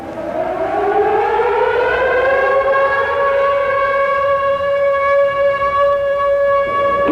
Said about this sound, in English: we will blow the sirens, and that'll be the signal for everybody to stop work